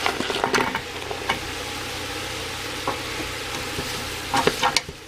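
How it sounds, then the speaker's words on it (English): Carrots and other root vegetables sweat in a pot for minestrone soup, giving a soft, steady sizzle broken by a few sharper stirring scrapes near the start and end. "And now those root vegetables are gonna sweat off."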